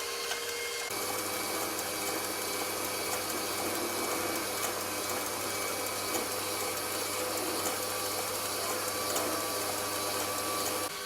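Electric mixer whipping egg whites with sugar for a cottage cheese casserole, a steady close whirring drone that starts abruptly and holds without pause, with no talking.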